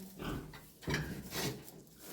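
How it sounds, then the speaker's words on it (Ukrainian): Four young piglets, two boars and two sows, grunt and snuffle nearby in a run of short, overlapping oinks. "Два кабанчики і дві свинки."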